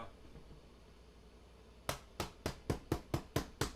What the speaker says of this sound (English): Got a nice little mallet here. And before you seal this down, you hammer it down